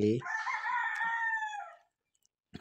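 A rooster among caged birds gives one loud, close crow lasting nearly two seconds, then a short silence and a few faint clucks.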